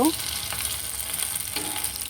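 Banana peel fritters frying in a pan over a medium flame, giving a steady soft sizzle that lasts throughout, with a brief light clink near the start.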